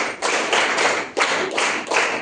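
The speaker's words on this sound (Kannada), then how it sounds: "ಎಲ್ಲ ಪೇರೆಂಟ್ಸ್ಗೂ ಮತ್ತೆ ಎಲ್ಲ ಟೀಚರ್ಸ್ಗೂ ಒಂದು ಜೋರ್ ಚಪ್ಪಾಳೆ ಕೊಡಿ" An audience claps for parents and teachers at a school event in several quick loud bursts of dense, close applause, each swelling and then briefly dropping off.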